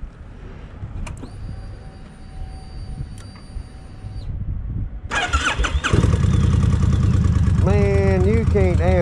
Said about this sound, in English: let me see how this thing's gonna crank